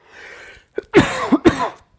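A person nearby lets out a burst of coughs, two or three harsh hacks in quick succession, with a short breath before them.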